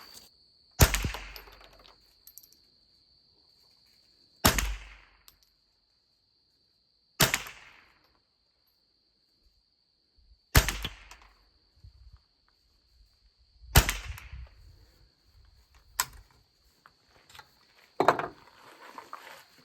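A Savage 64F rifle fires five spaced shots at a target, each a sharp loud crack with a short decay, separated by quiet pauses. A high steady whine runs underneath, and a few lighter clicks and handling noises follow.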